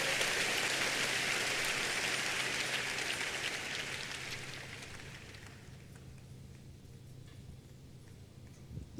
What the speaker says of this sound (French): Give the Lord a big hand of praise